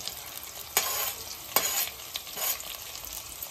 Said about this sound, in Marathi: सगळ्या भाज्या छान परतून घ्यायच्या